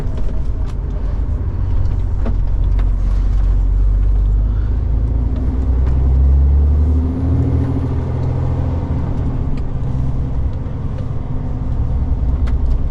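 A truck on a cross-country run from Hull pulls into a parking bay at motorway services, its engine rumbling low and steady up close, with a few faint hisses and knocks and no talk.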